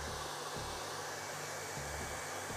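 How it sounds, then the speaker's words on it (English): A hair dryer blows steadily on its cold setting, close by, with a constant airy roar that dips briefly in low rumble a couple of times as it's moved over the hair. "So just turn your hairdryer onto cold and just give them a little blast with cool air"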